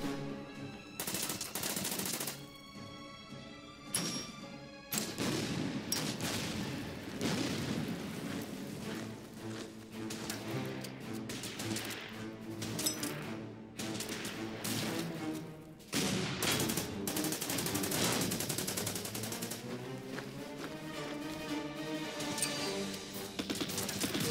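In the wartime strategy game Order of Battle: Panzerkrieg, artillery and gunfire crackle almost without pause in dense, overlapping volleys, with a musical score running underneath.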